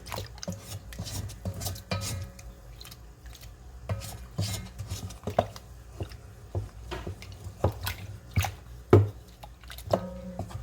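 Muffin batter being stirred in a bowl with a utensil, giving repeated scraping clinks and knocks against the bowl at an uneven pace, close and moderately loud, with no voice.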